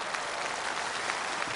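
A stage audience claps at a Lunar New Year comedy performance, a dense, steady burst of applause lasting a moment and heard alone without talk.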